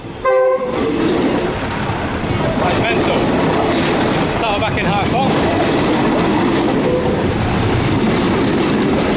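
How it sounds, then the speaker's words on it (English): A train rumbles through a Bangkok street market at very close range with a loud continuous roar, clattering wheels and a short horn blast, while people talk over it. "here we go, the train's coming right now"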